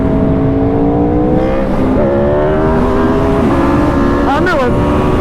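A sport motorcycle engine, an Aprilia RSV4 or a 2022 Suzuki Hayabusa, drones loud and close with shifting tones and a sharp rev surge near the end, with talk underneath.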